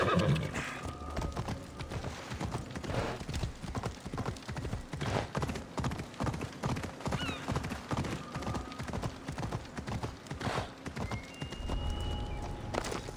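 A horse in Assassin's Creed Odyssey gallops with a steady, rhythmic clip-clop of hooves, and whinnies near the start and the end, with no talking.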